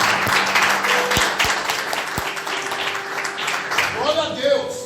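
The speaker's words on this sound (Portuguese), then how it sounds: "Você aplauda Jesus nessa noite" Church congregation applauding during an evening worship service, a dense, steady wash of clapping with a few louder claps and faint voices rising near the end.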